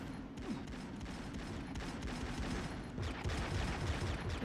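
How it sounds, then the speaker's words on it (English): Rapid bursts of gunfire in a PS2 video game, dense overlapping shots crackling steadily over a continuous rumble, with no break. "Why am I getting shot at?"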